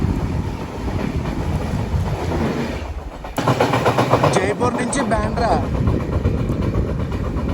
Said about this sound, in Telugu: LHB కోచెస్తో train cross over